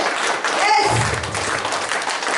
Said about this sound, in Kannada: ಇವತ್ತು ಜೋರಾದ ಚಪ್ಪಾಳೆ ಮುಖಾಂತರ ಬರ್ಲಿ.